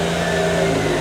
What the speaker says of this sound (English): Windows come down by pressing the switch